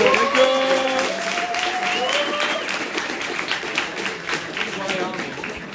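An audience in a presentation hall applauds in a broad, steady patter of many hands, while voices and a few tonal whoops ring out over the clapping at the start.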